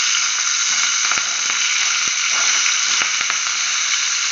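Chicken wrapped in banana leaf sizzles loudly in a hot pan, a dense steady frying hiss with a few sharp pops and crackles as pieces are turned to the other side, with no talking.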